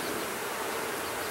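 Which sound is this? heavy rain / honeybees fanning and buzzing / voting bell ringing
honeybees fanning and buzzing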